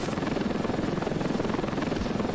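A helicopter in the video game Ravenfield thrums with a fast, steady rotor chop and engine drone, loud and close, continuing without pause.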